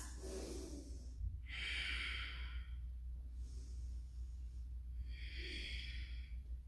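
Deep, steady breathing while holding a yoga bridge or wheel pose in a morning class: two long, loud breath cycles, each a hissing exhale, with a faint low hum underneath.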